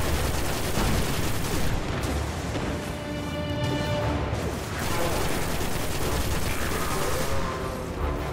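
Dense, continuous gunfire and booming weapon blasts from the video game Destiny, with bursts and explosions running steadily over the whole stretch while players talk over the action.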